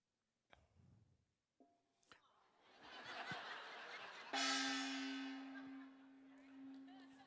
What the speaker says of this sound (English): I'm going to ask you to hit the gong